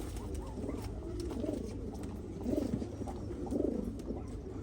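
Akbaş pigeons, a blue and a red pair kept together as mates, coo softly in low repeated swells over a steady background hum, with a few louder bursts near the end.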